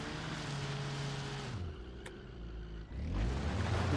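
A Toyota off-road car in BeamNG.drive labours through mud with a droning engine that drops in pitch, cuts briefly, then revs again, steady and moderately loud throughout.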